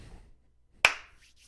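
A single sharp hand clap, close and fairly loud, cracks out alone in a quiet room and decays quickly.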